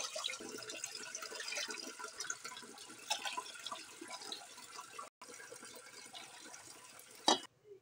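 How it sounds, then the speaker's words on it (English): Water pours steadily from a tap into a cooking pan for noodles, a continuous splashing rush that runs for several seconds, breaks off briefly, then ends with a clunk. "Pour water."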